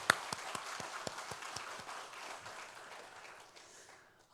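A church congregation applauds the choir after a hymn, a dense wash of clapping from a large indoor crowd that slowly thins and fades over a few seconds, with faint distinct claps showing through.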